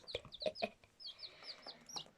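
High, thin peeps from a chick repeat in quick bursts, close and fairly quiet, with a few soft clucking notes among them.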